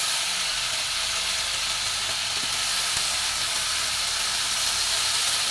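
Meat for igado sizzles steadily in a hot pan, a loud, even frying hiss with no break and only faint stirring knocks underneath.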